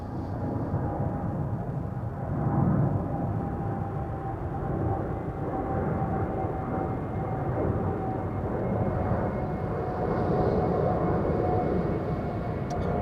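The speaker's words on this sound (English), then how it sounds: "that is Qatar taking off from the center runway" A Qatar cargo jet takes off from the center runway at Amsterdam Schiphol, a continuous distant engine roar and rush that swells and holds steady without talk.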